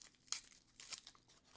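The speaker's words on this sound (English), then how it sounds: "This is wax paper that she's made herself." Homemade wax paper packaging from a handmade watercolor paint order crinkles twice in quick close bursts, with faint rustling between them.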